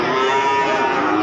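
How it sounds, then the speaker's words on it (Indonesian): A cow at a cattle market in Ambarawa gives a loud, close, sustained moo that fills the whole moment, with no voices over it. "Oke, kita lanjut ke sapi berikutnya."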